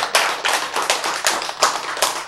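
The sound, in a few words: hand clapping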